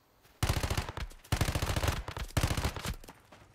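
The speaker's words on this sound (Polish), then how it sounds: "A jak ta broń strzela?" A weapon fires in the survival shooter Once Human: three loud bursts of rapid automatic fire with short pauses between them, each burst made of sharp, evenly spaced shots.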